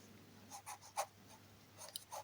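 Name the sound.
writing on a board while teaching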